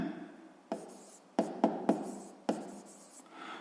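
Pen or chalk writing an equation during a sixth-grade maths lesson, a few short scratchy strokes and taps separated by pauses, close and fairly quiet.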